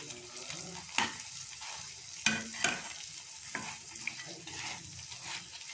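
Puffed, overfried nimki dough sizzling in a pan of deep oil while being stirred, with a continuous loud crackle broken by several sharp utensil knocks and scrapes, no talking.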